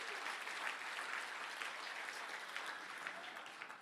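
Faint, distant applause fills the hall at a netball awards night as the crowd claps for the Vixens team, a soft continuous patter with no voices.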